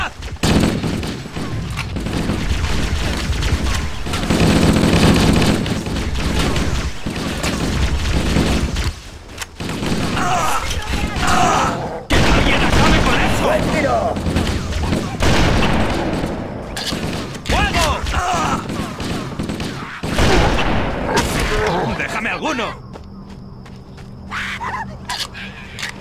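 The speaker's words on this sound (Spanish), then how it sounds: "Maldita sea, esos cañones fijos nos van a hacer pedazos." Fixed cannon emplacements firing in the Halo PC campaign, heavy booming blasts and rapid bursts layered over continuous battle noise, loud and close, with soldiers talking intermittently over the barrage before it thins out near the end.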